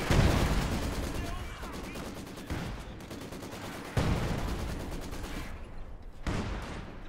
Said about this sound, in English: There's this barrage you're waiting for